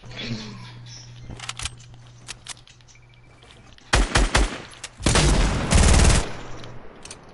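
Gunfire in a shooter video game comes in two loud bursts: a short rattle around the middle, then a longer, heavier volley after a stretch of quieter game ambience with sporadic single shots.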